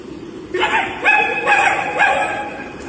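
A human voice imitates a puppy barking with four short, high yips in an even rhythm, close and fairly loud, with nothing else over it.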